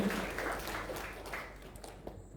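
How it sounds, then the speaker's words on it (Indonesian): An audience applauds its teachers at a school ceremony welcoming a new madrasah head, a broad wash of clapping that starts full and fades steadily away. "Maka kita beri tepuk tangan kepada guru dan para guru."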